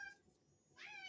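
A cat meows at feeding time, a short, fairly faint call near the end that follows a quiet stretch of room noise.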